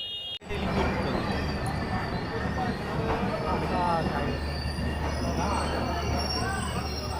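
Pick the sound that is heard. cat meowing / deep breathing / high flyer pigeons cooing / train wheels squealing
train wheels squealing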